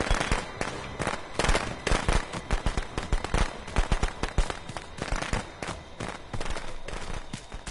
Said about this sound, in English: I dropped firecrackers